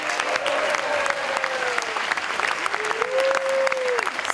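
Audience at a graduation ceremony claps steadily in a dense, continuous burst of applause, fairly loud and close, while a faint voice or whistle-like tone rises and falls over it.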